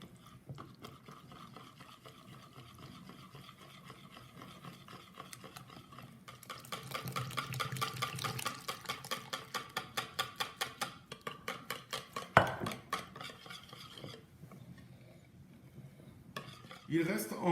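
A whisk beats crêpe batter in a bowl as browned butter and lukewarm milk are poured in gradually, rapid rhythmic clinking strokes with sloshing liquid, nearby and fairly steady, then a sharp knock against the bowl.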